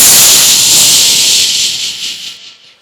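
A stage comedian's voice imitates a rich household's pressure cooker whistle: a loud, close, continuous steamy hiss that holds for about two seconds, then tapers off to silence.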